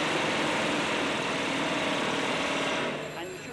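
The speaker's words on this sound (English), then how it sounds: "Because he's got a drill going out here." A drill runs continuously outside, a loud, steady buzzing whir that fills the clip before dropping off near the end.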